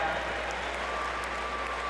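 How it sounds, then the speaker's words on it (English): A crowd at a 2018 regional fitness competition applauds the athletes in a steady, even wash of clapping and cheering heard from a distance under a low hum. "Big round of applause to all of our athletes"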